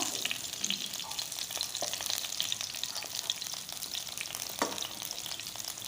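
Chopped chillies and bay leaf sizzle steadily in hot oil for a mushroom gravy, with a spoon stirring and scraping the pan close up throughout, no talking.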